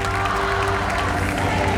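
Steady applause from a congregation at a Father's Day tribute ceremony, continuous and dense clapping filling the room with a faint hum of voices beneath.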